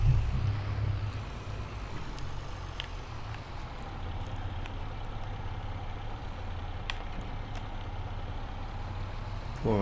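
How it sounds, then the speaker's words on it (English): A tractor engine in Farming Simulator 22 labors under a load of heavy logs, a steady, dense low drone that holds throughout with a few faint clicks on top. "poor old tractor does struggle really badly with the heavier logs"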